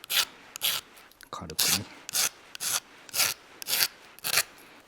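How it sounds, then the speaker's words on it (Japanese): A wooden shoe tree from a Hungarian VASS shoe has burrs filed off with a hand file: about nine steady, evenly spaced rasping strokes, close and clear, with a brief spoken word in the middle. "バリがあるんで、ちょっとこうヤスリで"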